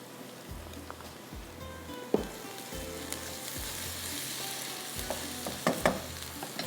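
Spices frying with qeema (minced meat) in a pan give a steady, close sizzle with a few sharper crackles and spatters near the end; no one talks.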